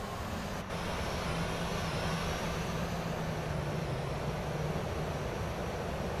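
A Boeing 737-800's jet engines spool up for takeoff in Microsoft Flight Simulator, a steady, even roar with a faint rising whine that holds throughout.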